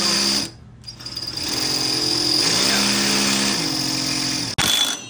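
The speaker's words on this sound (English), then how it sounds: "So we are drilling it out." A power drill whines steadily, its pitch shifting as it bites into metal while drilling out a bolt on a Troy-Bilt mower's steering, stopping briefly and starting again, loud and close.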